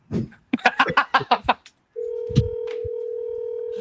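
An outgoing phone call rings unanswered, a steady ringback tone starting after a few seconds of talking and continuing on its own to the end.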